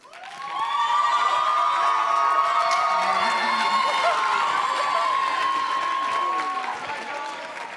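A high school audience breaks into loud, sustained applause mixed with cheering and whoops, holding steady for several seconds before fading.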